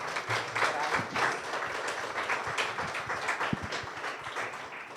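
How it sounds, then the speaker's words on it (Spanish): A seated audience gives warm applause for Madeleine Hash at a talk on the power of the mind, a steady wash of many hands clapping with a few sharper individual claps and taps standing out. "les pido un gran aplauso para Madeleine Hash."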